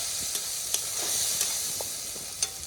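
Curry leaves dropped into hot oil, a steady close sizzle and hiss of frying with occasional sharp pops and spatula stirs.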